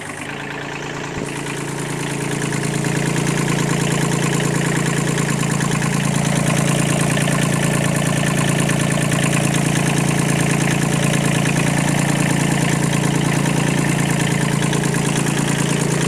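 A Kubota B1500 small tractor's 15 hp three-cylinder diesel engine idles steadily nearby, a constant low rumble with a rapid rhythmic knock that holds level throughout after a brief rise at the start.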